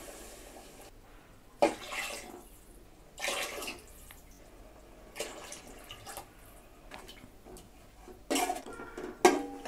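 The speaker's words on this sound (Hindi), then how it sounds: "4 गिलास पानी ऐड करेंगे।" Four glasses of water are poured into a pot of chicken nihari on a high flame, each pour a separate splashing gush, spaced a couple of seconds apart with quiet gaps and faint clinks between.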